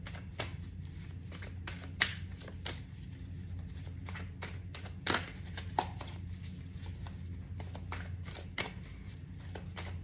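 Soft, continuous riffling of a tarot-style animal spirit card deck being shuffled by hand close to the mic, with sharper card snaps at intervals over a low steady background hum.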